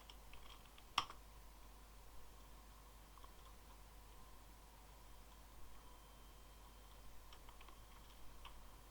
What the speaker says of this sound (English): Let me type in, please.